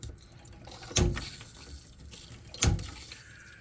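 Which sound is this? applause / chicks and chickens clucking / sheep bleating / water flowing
water flowing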